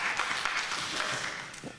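Applause from a conference audience at a Wikimania session, a steady dense patter of clapping across the whole short stretch with no speech over it.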